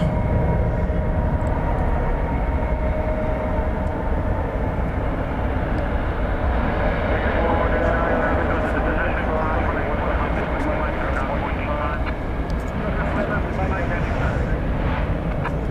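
An Airbus A321 airliner on flight 584 from Tucson moves at DFW Airport at night, its jet engines making a loud, continuous, broad roar that holds steady throughout.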